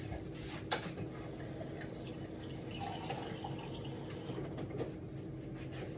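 Water poured into a glass at home to top up a drink mixed from an immunity shot: a steady, fairly faint trickle running without a break, with no talking.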